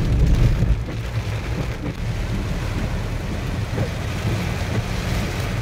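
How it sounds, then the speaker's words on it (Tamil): Heavy rain pours down on a forest in Karnataka in a dense, steady roar, loud and continuous, with a low rumble beneath like a vehicle or wind. "அந்த அளவுக்கு ஒரு சரியான மழை வெளுத்து வாங்கிக்கிட்டு இருக்கு."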